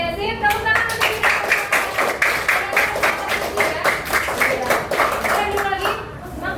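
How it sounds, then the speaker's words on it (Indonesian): A primary school class claps together in rhythmic, fast unison bursts during a science lesson, loud and close, with a voice faintly mixed in. "Oke, sip, tepuk tangan untuk kita."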